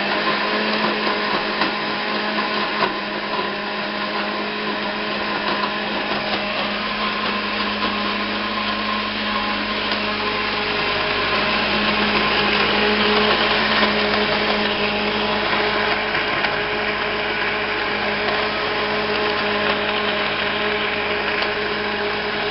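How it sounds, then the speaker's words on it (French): A blender whirs steadily for over twenty seconds, mixing coconut milk, avocado and egg into a hair mask for kinky hair; the motor drone stays loud and continuous, rising slightly in intensity midway, with no talking. "donc on a tout mis dans le blender, donc on va faire mixer le tout"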